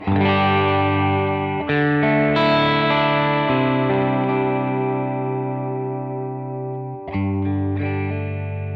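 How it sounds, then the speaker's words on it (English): Sustained guitar chords run through a Boss RV-200 reverb pedal with its modulation turned up, giving a shimmering, wavering wash. The chords are restruck a few times and ring out loud and alone. "the more that I turn it up, the more modulation you get on the reverb"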